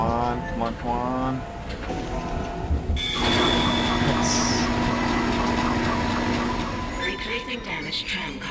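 A tram car rolls along rails in the Dead Space video game, a steady mechanical rumble with a sustained metallic whine and clanks, while voices and game sounds play over it.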